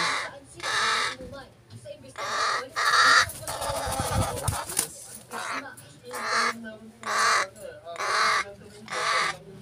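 A pet crow gives repeated harsh, loud caws in short bursts with pauses between them. A louder, noisier flurry comes midway through, and a person talks quietly between the calls.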